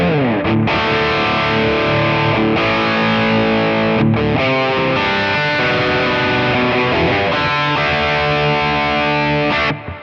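Heavily distorted electric guitar, an HSS Stratocaster, plays chunky chords and riffs continuously through an overdriven Marshall-style amp with a modern preamp, loud and close, with no voices.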